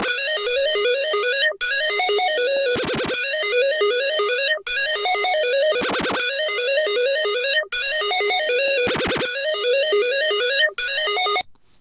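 A bright Serum synth lead from the Isolate Serum Bank plays a fast, repeating arpeggiated melody, loud and continuous, with short dropouts and stuttering percussive bursts in each loop.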